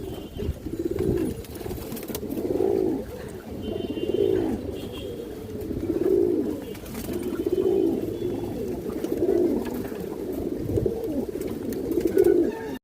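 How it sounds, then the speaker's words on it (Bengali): A pair of khaki pigeons coo close by, low throaty calls repeating in a steady rhythm about every second and a half, alone without talk. "একজোড়া খাকি কবুতর আছে মাসাল্লাহ দেখেন আপনারা"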